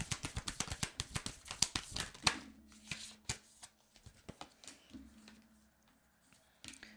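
Moonology oracle cards are shuffled up close in a rapid, fluttering run of crisp riffles, then slow to scattered soft taps and slides, with no talking.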